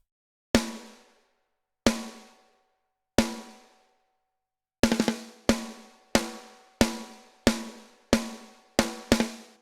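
Eloy Drums snare hits through an SSL channel strip plugin, first three spaced single strokes ringing out, then a quicker run of steady hits with a few flams, loud and close with short decaying tails.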